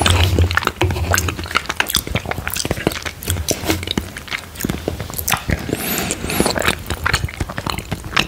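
Close, soft eating of vanilla pudding topped with strawberry sauce, with wet squishy mouthfuls, chewing and small slurping smacks repeating throughout.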